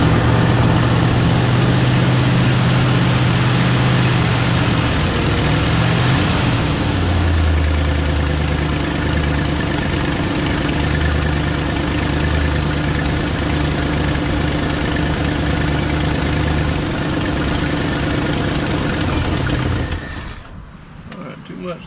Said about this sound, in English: Let's keep firing her off and see if she'll crank.